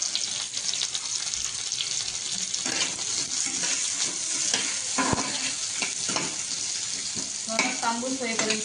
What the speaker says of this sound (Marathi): कांदा फ्राय करायचा आहे आपल्याला, भाजून घ्यायचा आहे चांगला।